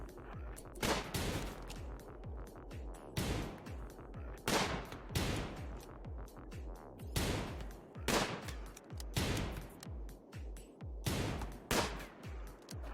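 Video-game gunfire from RimWorld: repeated loud, sharp bursts of shots in clustered volleys, roughly one to two seconds apart, over a continuous low rumble of battle.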